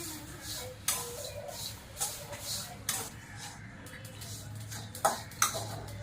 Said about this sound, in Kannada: ಕಾಳನ್ನ ಹುರಿದ್ಬಿಟ್ಟು ಒಗ್ಗರಣೆ ಮಾಡೋಣ ಅಂತ ಹುರಿತಾ ಇದ್ದೀನಿ